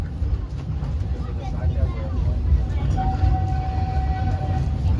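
The Walt Disney World Railroad train, pulled by the Walter E. Disney steam locomotive, rolls along its rails with a close, continuous low rumble and clatter, and a thin squeal rings out partway through.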